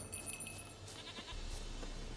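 A goat bleats in The Witcher 3 while the player tries to get it home for milking, with a cowbell in play; faint, short calls rise over a quiet game backdrop with low rumble.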